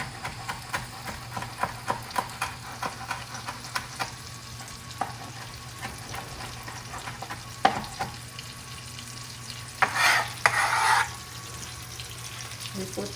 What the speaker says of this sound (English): We drop our garlic while the butter is still not so hot,